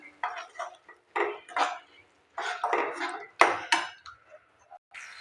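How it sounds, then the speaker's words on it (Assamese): A spice mixture with soy sauce being stir-fried in a pan for a jackfruit curry, heard as bursts of metal utensil scraping and clinking against the pan with short gaps in between, close and fairly loud. "এইখিনি মই আৰু ভালদৰে অলপ সময় ভাজি ল'ম।"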